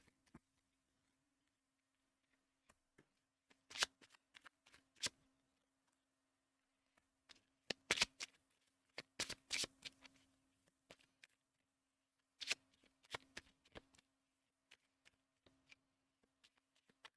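Tarot cards being shuffled in sporadic bursts, quick papery flicks and snaps in small clusters separated by pauses, close but quiet against near silence, with no voices.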